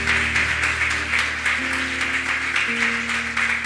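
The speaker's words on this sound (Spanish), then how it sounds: "Dele un aplauso al Señor." A church congregation claps for the Lord during a Spanish-language sermon, a steady, dense round of applause held for several seconds at even loudness, with organ or keyboard tones sustained underneath.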